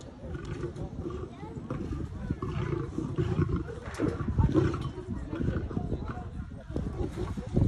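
Two lions, a father and his son, roar while eating side by side, heavy rumbling roars that come and go in waves and stay close and loud for the whole stretch.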